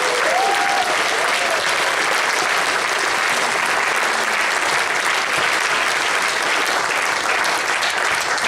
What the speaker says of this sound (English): So let's give a big round of applause for Todd and his technical team.